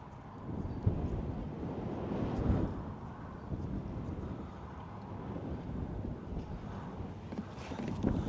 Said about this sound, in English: It's windy, my pour game's off.